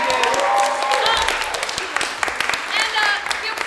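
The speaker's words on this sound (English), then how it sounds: "Valeria in London, give her some applause." Audience applause at a live game-and-party show, a dense steady wash of clapping with voices mixed in, loud and close throughout, easing slightly toward the end.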